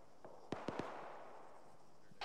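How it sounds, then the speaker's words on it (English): Distant gunfire to the west during a military field exercise: three quick sharp reports in a cluster, then a fainter single pop, over steady outdoor background noise. "Enemy fire to the west."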